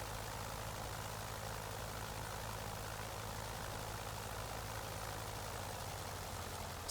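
Rotary engine of a Sopwith Camel biplane idling in the MSFS 2020 flight simulator, a steady, even drone with a low thrumming pulse that holds constant and alone for the whole stretch.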